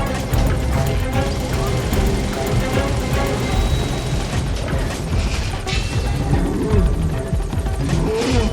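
Helicopter in Metal Gear Solid 5: The Phantom Pain, a continuous loud rotor thrum mixed with crashing and rumbling game action, dense and sustained throughout.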